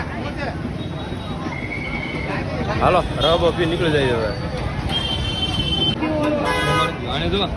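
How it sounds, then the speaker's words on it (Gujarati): A busy street in Sihor market fills with traffic noise, horns tooting repeatedly near and far over a constant rumble, while people talk close by throughout. "ફૂલ ટ્રાફિક છે સિહોરમાં જો"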